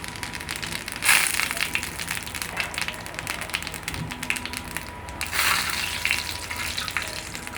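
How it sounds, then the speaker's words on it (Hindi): Cumin seeds crackle and sizzle in hot ghee on a flat iron tawa, a steady close hiss with brief louder spurts as the seeds hit the fat. "अब मैं इसमें ज़ीरा डाल रही हूँ"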